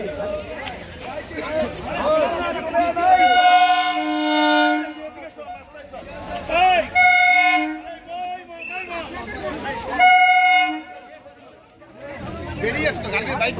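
Three long, bright horn blasts, likely from a train at railway gate no. 22 between Shyamnagar and Ichapur during a blockade by strike supporters, sound over a steady crowd murmur and talk.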